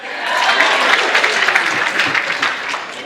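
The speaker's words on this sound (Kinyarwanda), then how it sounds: "amashyi menshi kuri Merisi" Audience applause fills the room from start to finish, a dense, steady wash of clapping at a lively comedy performance, with no pauses or voices breaking through.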